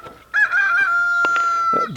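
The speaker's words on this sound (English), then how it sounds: "This rooster is not going to give me a break." A rooster crows once, loud and close, its long call held steady for well over a second before tailing off, with no talk over it.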